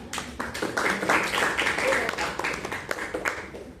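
A classroom of students applauds in a scattered, moderately loud burst of clapping, mixed with people talking over it.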